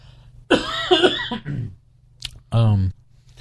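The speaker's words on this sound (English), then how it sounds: "I got a cough" A single harsh cough, then a throat-clearing sound, close to the microphone amid quiet room tone.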